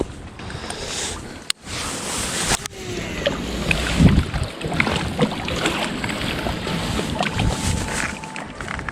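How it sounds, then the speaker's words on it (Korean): Strong wind blows outdoors during a fishing rod casting test, a continuous broadband rushing roar with gusty swells and a few sharp knocks, close and fairly loud. "바람이 좀 많이 불고 있어서"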